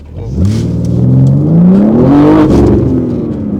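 An Opel Meriva engine revs loud and close, rising in pitch as it accelerates and then falling back, heard alone without talk.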